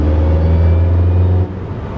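Porsche 918 Spyder hybrid supercar engine while driving, a loud, steady low droning hum from inside the car that drops off sharply after about a second and a half, with no talking.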